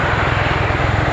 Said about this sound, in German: Showing us the tremendous manoeuvrability of the NH-90